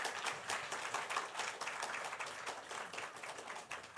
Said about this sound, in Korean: 자, 다시 인사할 때에 우리 박수로 격려와 축복의 박수를 드리겠습니다